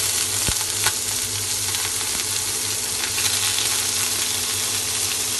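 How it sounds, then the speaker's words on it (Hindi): Shrimps sauté in hot oil in a pan, giving a continuous close sizzle and crackle with a single sharp clink near the start, and no voices. "और श्रिम्प्स को मैं इसके अंदर सॉटे कर लूँगी।"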